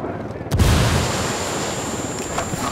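Grenade explosions and gunfire in Ghost Recon Wildlands: a heavy blast erupts after a brief quiet moment, then a sustained loud wash of rumbling debris and crackling fire continues to the end.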